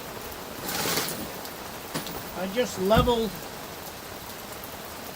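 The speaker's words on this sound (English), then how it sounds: "it's raining pretty good now" Steady rain falls outdoors in a broad, even hiss that runs throughout, while someone speaks briefly near the middle.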